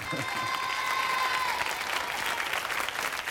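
Applause and the roar of a concert crowd play as a sound effect on a French hidden-camera TV program, dense clapping and crowd noise throughout with a brief tone near the start.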